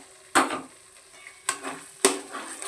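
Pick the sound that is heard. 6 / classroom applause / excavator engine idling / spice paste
spice paste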